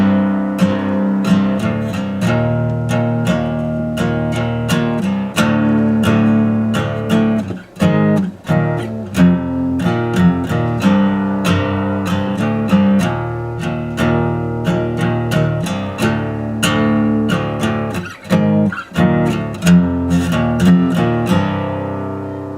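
Guitar playing a riff, with repeated plucked notes and slides in a steady rhythm, close and clear, alone with no talk.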